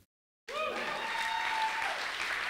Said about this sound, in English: Please keep your applause going for Tui.